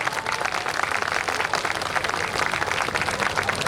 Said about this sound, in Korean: 격려의 박수를 부탁드리겠습니다. 큰 박수 부탁드립니다